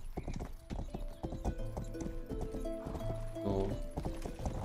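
Horse hooves clip-clop at a steady galloping rhythm in the video game Rustler, close and fairly loud, with a brief whinny and other game sounds layered in.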